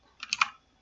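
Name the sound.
typing on a computer keyboard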